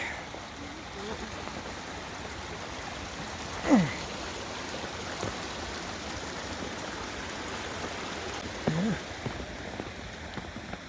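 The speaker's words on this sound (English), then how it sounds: "Another river crossing." Steady rushing of a creek at a river crossing on the Dry Creek Trail toward Horsetail Falls near Alpine, Utah, a continuous wash of water filling the clip, with a brief voice-like sound near the middle and another toward the end.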